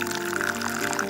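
Hot cooked paneer poured from a pan into a muslin cloth spread in a large bowl, a continuous close liquid splash and gurgle lasting about a second.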